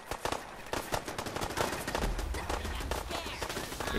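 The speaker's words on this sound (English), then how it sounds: "Someone's shooting at me." Rapid gunfire from the video game Fallout 4 comes as a loud, close series of sharp cracks that runs continuously with a deep rumble underneath.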